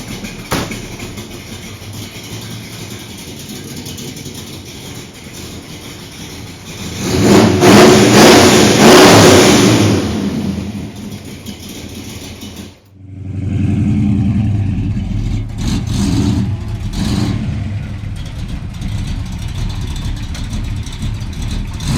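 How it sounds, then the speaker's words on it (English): A muscle car's engine rises from idle into a loud rev, holds high for a few seconds, drops sharply, then is revved again and settles into a strong, steady roar. "It's a pretty hot little sounding motor."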